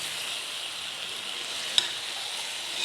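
Fried eggplant sizzles in a pan as it is stirred into masala, a soft, steady hiss with one short sharp tick partway through.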